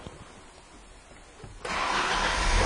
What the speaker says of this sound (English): This car is going to start right up.